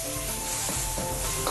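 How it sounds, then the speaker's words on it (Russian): Pork tenderloin frying in a pan for a Chinese dish, a loud dense sizzle with a few scraping stirs, close and continuous, no voices. "Жарим, помешивая."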